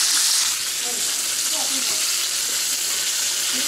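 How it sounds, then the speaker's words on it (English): Fish, including rock bass, walleye, bluegill, perch and bullhead, fry in a pan on a stove with a dense, bright, constant sizzle and faint bubbling crackles. "Okay, so there's the rest of the fish cooking."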